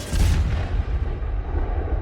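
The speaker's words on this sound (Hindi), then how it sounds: "155 mm की K9 वज्र तोप भारत ने साउथ कोरिया से ली" A K9 Vajra 155 mm self-propelled howitzer fires one heavy booming round, a deep blast that rolls and rumbles away over about two seconds.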